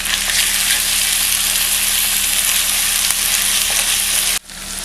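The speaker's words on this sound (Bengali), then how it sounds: "1 চা চামচ আদা বাটা আর 1 চা চামচ রসুন বাটা দিয়ে এটাকে আবার একটু ভেজে নেব।" Ginger and garlic paste fries with onions in a pan for Old Dhaka chicken tehari, a loud continuous sizzle that cuts off abruptly near the end.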